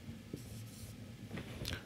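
Quiet chalk or marker strokes as an equation is written on a lecture board, soft brief scratches and taps at close range, no one speaking.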